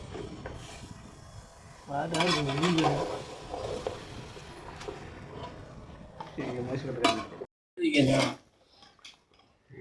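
Country chicken masala stirred in a cooking pot at a feast: intermittent metal clanks and scrapes of a ladle with a faint sizzle, mixed with people talking nearby.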